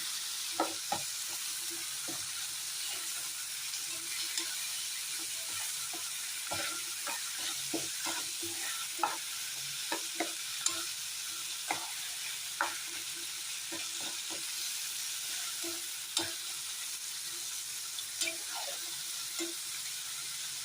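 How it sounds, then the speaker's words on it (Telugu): Cucumber pieces frying in a pan for a cucumber tomato curry, a steady close sizzle with repeated soft scrapes and clinks of a spoon stirring through the pieces. "మనం ముందుగా కట్ చేసి పెట్టుకున్న దోసకాయ ముక్కలు వేసి కలుపుకుందాం"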